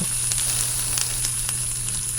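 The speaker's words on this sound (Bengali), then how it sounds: "রীতা সব কথা শুনে সাধু বাবার দেওয়া তেল দিয়ে মাছ ভাজতে লাগল।" Fish frying in oil in a pan, a cartoon sound effect: a steady, close hiss and sizzle that runs alone the whole time, with faint crackles scattered through it.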